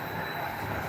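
Passenger train rolling toward Torquay, heard from inside the carriage as a steady rumble with a faint high wheel squeal, continuous and even.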